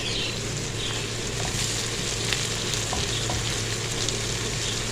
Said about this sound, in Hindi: सिर्फ 1 मिनट तक हम इसको भूनेंगे, ताकि इसका कच्चापन जो है ये ख़त्म हो जाए